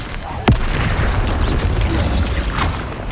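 A Confringo blasting spell detonates in Hogwarts Legacy with one sharp, loud burst early on, followed by a dense rumbling game soundscape and a faint whooshing swell near the end.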